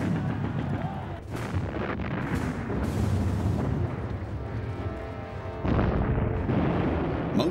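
Artillery barrage from the 1918 Meuse-Argonne offensive of World War I: dense, continuous rumbling booms and blasts that overlap into a loud, unbroken roar, with repeated heavy thuds.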